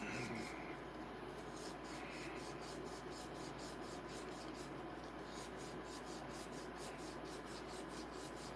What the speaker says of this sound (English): Take the sandpaper and I just go here.